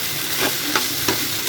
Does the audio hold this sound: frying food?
yes